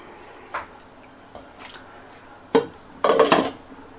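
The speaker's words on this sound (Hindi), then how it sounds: "कोफ्ता मैंने डाल दिया है और इसे अब ढक कर छोड़ देते हैं" A metal lid is set on a pot of kofta curry: a few light clinks, then a louder clatter and a rattling scrape near the end, close by, over quiet kitchen background with no talk.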